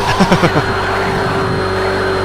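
A Ferrari race car engine in Project Cars 2 howls at high pitch for a couple of seconds, with a few quick revving pulses at the start before settling into a steady drone.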